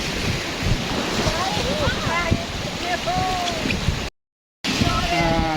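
Loud rushing water and churning river rapids, steady and close, with wind buffeting the microphone and faint voices shouting over the roar during rafting.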